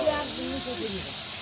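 Onions sizzle in hot oil with cumin and garam masala in a home kitchen, a steady, even hiss close by, with a voice talking over it.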